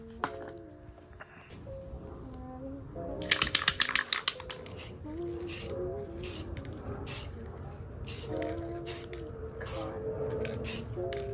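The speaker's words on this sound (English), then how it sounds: "Now the next thing that I'm gonna be doing is using the clear coat." Rust-Oleum Ultra Cover 2X semi-gloss clear coat sprayed from an aerosol can onto repainted rear mudguards for an Infiniti G35 coupe, heard as a burst of short hissing sprays followed by several more spaced bursts over steady background noise.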